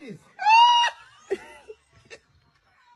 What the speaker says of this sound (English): There's somebody shouting back there.